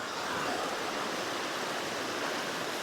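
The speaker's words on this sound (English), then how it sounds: "And I did think this creek was gonna be lower today. It's roaring pretty good." Swollen creek roaring and rushing, a dense, steady broadband wash of water filling the scene close by, with no voices.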